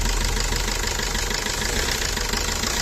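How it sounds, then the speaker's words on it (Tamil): A Maruti Suzuki Swift Dzire ZDI Plus diesel engine runs close by, a loud, steady idle with a continuous clattering knock and no pauses. "என்ஜின் சவுண்டு எப்படி இருக்குன்னு மட்டும் பாருங்கள்."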